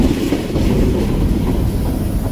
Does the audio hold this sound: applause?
no